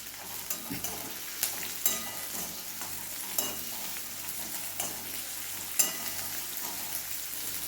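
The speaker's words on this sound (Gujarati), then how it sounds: "અને 1 ટીસ્પૂન આદું અને લસણની પેસ્ટ, એને થોડુંક સાંતળી લઈશું" Ginger-garlic paste sautés with a little capsicum in a pan over a medium flame, a continuous close sizzle broken by repeated sharp clicks and scrapes of a spoon stirring against the pan.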